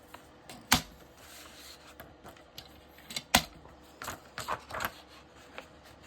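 Paper is cut for a zig zag pocket tag with journaling spots for a junk journal. Quiet, irregular sharp snips and clicks come close by, with a few louder cuts among them and no talk.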